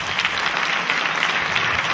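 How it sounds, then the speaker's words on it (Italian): Sustained audience applause at a theatre performance of a Neapolitan stage comedy, a dense steady wash of many hands clapping, fairly loud and continuous with no talking. "sì, meritano un applauso"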